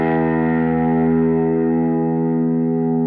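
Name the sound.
electric guitar note rising in pitch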